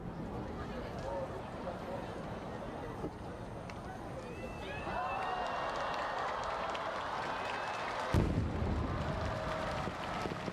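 A crowd claps and cheers at the Nagaoka fireworks festival, a steady wash of applause rising midway with a sharp firework boom near the end, heard from a distance.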